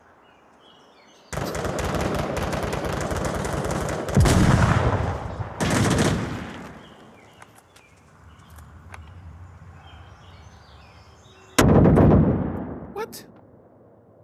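Loud bursts of automatic gunfire in the virtual reality shooter Onward VR, several long rattling volleys separated by quieter gaps, with a voice briefly speaking.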